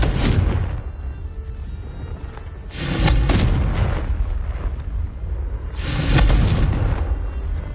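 Three booming Confringo spell explosions in Hogwarts Legacy, each a loud close burst with a rumbling tail, spaced about three seconds apart, with no voices.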